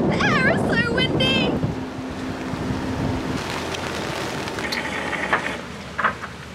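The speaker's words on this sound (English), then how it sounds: "The air is so windy!" Strong wind buffeting a boat as a storm approaches, a loud steady rush and roar across the whole stretch, with a voice speaking briefly at the start.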